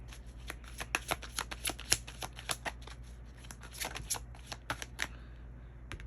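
Tarot cards are handled and shuffled close up, a run of crisp riffling flicks and soft slaps in an uneven rhythm over a quiet indoor hum.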